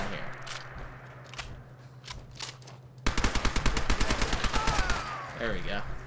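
Gunfire in a modded first-person shooter: a few scattered shots, then a rapid, rhythmic burst of hip-fired rounds, loud and close, with occasional voices underneath.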